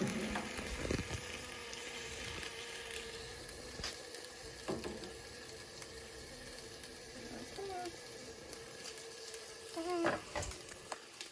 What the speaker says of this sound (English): if you guys hear any noise, it's probably The roasting tomatoes.